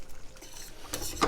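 Pappardelle with sausage ragu is dished up from a pan: soft scraping and clinking of a utensil against the pan, quiet and close, with a brief louder clatter at the end.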